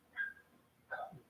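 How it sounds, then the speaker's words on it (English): Dogs barking outside, two short yipping barks spaced about a second apart, fairly faint and distant. "These dogs don't shut up barking out here."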